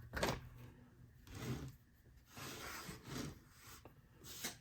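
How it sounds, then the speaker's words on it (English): A trowel drawn across casting sand in a mold for silver candy canes, making soft gritty rasping strokes, about four slow passes, close and quiet, with no voices. "take our trowel just to make it nice and even"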